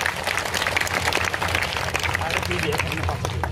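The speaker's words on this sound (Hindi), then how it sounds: "एक बार आप अपने खुद के लिए एक बार जोरदार ताली बजा लो सारों के लिए" Loud applause from an outdoor protest crowd at a sit-in to save a cow shelter, dense steady clapping lasting throughout with voices mixed in.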